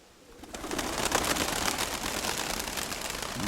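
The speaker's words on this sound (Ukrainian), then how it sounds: "Це восьма голубка сідає" A pigeon hen comes in to land, making a rising rush of wing flutter that swells and stays loud and close to the end.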